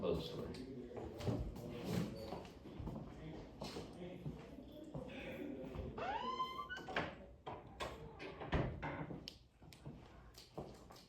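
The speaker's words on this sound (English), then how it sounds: "We'll close the door." A classroom door pushed shut amid shuffling and movement, with thumps and a squeaky scrape partway through, while people talk throughout.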